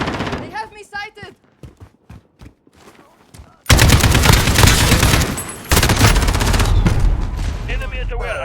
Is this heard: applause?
no